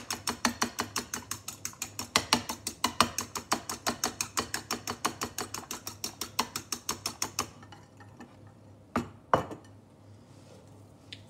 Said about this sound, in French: Je vais battre le blanc d'œuf.